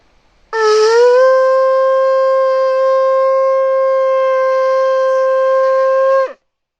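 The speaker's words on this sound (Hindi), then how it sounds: "यह शंख की आवाज़ है और बहुत ही सुरीली ध्वनि" A conch shell blown in one long, loud, steady tone lasting about six seconds, with a brief rising swell at the start and a quick drop at the end.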